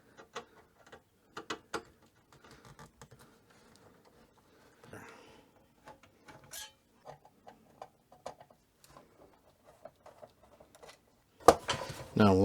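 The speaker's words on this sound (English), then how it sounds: "let's go ahead and take out a few screws here." Screws being unscrewed from the case of an Amcrest surveillance system, sparse close ticking and ratcheting clicks of a screwdriver in irregular bursts, ending in a louder rattling clatter.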